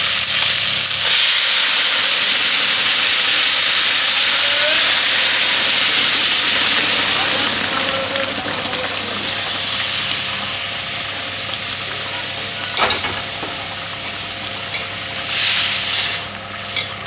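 Dal tipped into a hot pan for a Bengali lau-leaf bata fish meal, giving a loud, steady steaming hiss and sizzle that holds throughout and fades slightly toward the end, with a few clanks of stirring.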